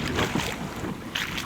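Wind gusts across a lake at Labrador Hollow during an autumn paddle, a loud broadband rush buffeting the microphone in uneven surges, with no voices.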